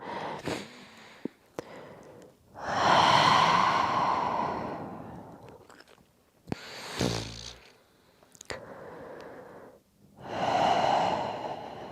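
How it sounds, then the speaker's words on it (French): Slow, deep breaths during a pilates class: a few long, close breathy exhales and inhales separated by pauses, with some nasal snort-like intakes and small clicks between them. Nobody speaks. "Prenez 3 respirations."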